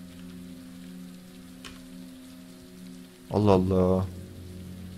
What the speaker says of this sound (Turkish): Ve geminin içinde nasıl yağmur yağar?